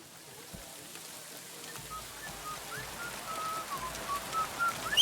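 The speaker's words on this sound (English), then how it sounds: "Stop that whistling!" A character whistles in Kingdom Come Deliverance 2, a faint, wavering melodic tune that rises over a quiet ambient background and grows slightly louder toward the end.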